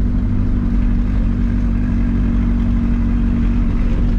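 A turbocharged VW Gol with an aftermarket exhaust, a loud steady engine drone close by with a strong low rumble and no talk over it.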